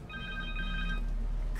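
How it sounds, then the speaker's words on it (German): A phone rings in the video game Marvel's Spider-Man 2, a steady electronic trill with bright pulsing tones over a low game background hum, then cutting off near the end. "Telefon."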